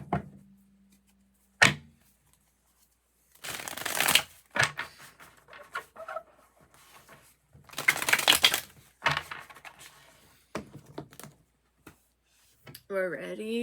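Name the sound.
shuffling tarot cards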